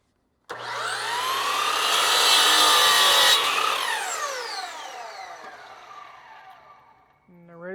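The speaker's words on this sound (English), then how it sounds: "Always cut your miter first and then pull your length." A power saw cuts a 45-degree miter through shower pencil trim in one loud, sustained close-up cut, then the blade winds down with a falling whine and faint voices come in at the end.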